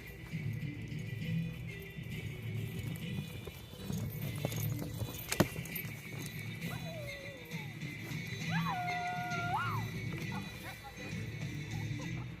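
Horse hooves clop on the ground during a mounted archery display at an equestrian school, faint and distant beneath a steady outdoor crowd murmur and someone narrating over a loudspeaker.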